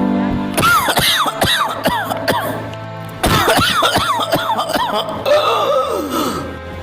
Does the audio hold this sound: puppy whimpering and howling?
no